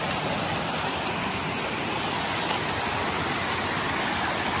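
A mini waterfall near Brgy. Napsan gives a steady, dense rush of falling water, close and even throughout with no voices over it.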